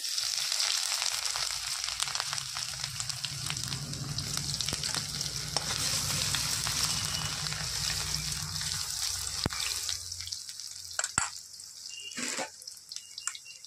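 Chopped ginger frying in a pan after whole cumin for potato paratha filling, a sustained close sizzle with stirring scrapes that thins out and turns patchy near the end.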